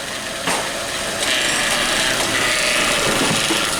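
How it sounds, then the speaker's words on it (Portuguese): Hyundai Veloster transmission being put into gear during a workshop inspection of a faulty gearbox, giving a steady grinding, rubbing mechanical noise with a sharper onset about half a second in that continues close and loud. "Engata uma marcha aí, Lucas."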